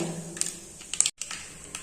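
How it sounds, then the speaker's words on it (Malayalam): Mustard seeds crackle in hot oil left from frying beef for pickle, making quick, light, irregular pops like scattered ticking, with one brief silent gap before the faint pops continue. "ബീഫ് വറുത്ത് കോരിയ എണ്ണയിലോട്ട് തന്നെ കുറച്ച് കടു ഇട്ട് കൊടുത്തു കടു പൊട്ടുന്നുണ്ട്"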